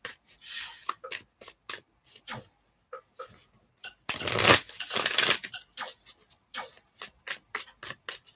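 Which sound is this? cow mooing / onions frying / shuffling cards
shuffling cards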